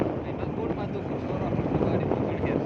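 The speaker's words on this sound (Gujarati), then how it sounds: "અટાણે હે ને પવન એકદમ આવે" Strong wind roars and buffets across the microphone in a continuous low rumble, with no talking.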